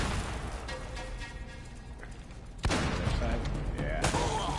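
Gunfire in the video game Uncharted: Drake's Fortune, with a burst of loud shots and booming impacts in the second half over game music and noise, while players talk.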